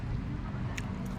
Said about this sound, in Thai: เรือใหญ่เข้ามา